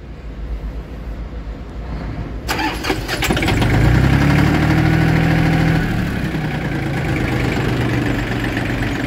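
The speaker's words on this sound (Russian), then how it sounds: "Давайте заведем трактор." A Yanmar F18 mini tractor with a snow grader blade cranks briefly, catches and revs up, then settles into a loud, steady diesel idle close by for several seconds.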